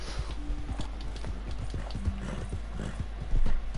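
Horse hooves clip-clop in a steady rhythm in Red Dead Redemption 2, the rider carrying a cow carcass on horseback; close, even footfalls continue throughout, with a brief louder thump near the end.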